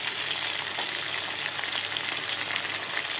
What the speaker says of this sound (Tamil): நல்லா எண்ணெயிலே நல்லா வணக்கணும்